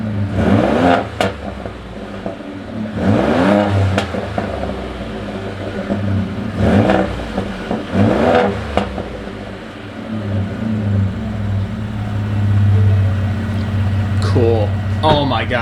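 A Ford F150 STX with a resonator-delete exhaust revs in several loud, throaty bursts that rise and fall over a deep idle, while people talk nearby.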